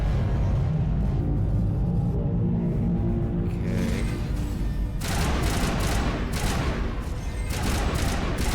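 Rapid gunfire from a player's weapon in Mass Effect Legendary Edition, sustained bursts of shots over rumbling game ambience, loud and close with no talk.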